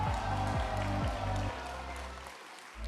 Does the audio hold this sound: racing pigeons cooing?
no